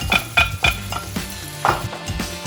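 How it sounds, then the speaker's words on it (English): Prawns tumble into a hot pan of sambal and sizzle close up, with a few sharp clattering stirs early on and another burst midway over a steady background frying hiss; nobody speaks. "And then now we're gonna add in the prawns."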